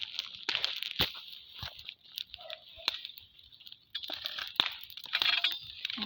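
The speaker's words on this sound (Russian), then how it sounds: "Это трава такая мокрая, бахкает." Wet grass burning in a small campfire gives irregular crackles and soft pops with hissing, faint and close, varying in bursts.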